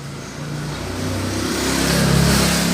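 Honda Biz 110i 2020 motorcycle engine running and rising in revs close by, a steady mechanical drone growing louder over nearly three seconds with no talk.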